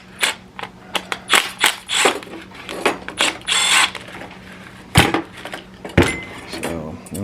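Close metallic ratcheting and clicking from a flaring tool forming a bubble flare on a brake line for a Dodge Dakota, irregular clanks and turns with a few sharper knocks.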